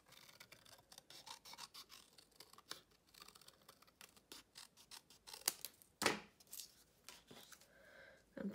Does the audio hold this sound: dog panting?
no